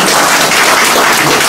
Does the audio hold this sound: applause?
yes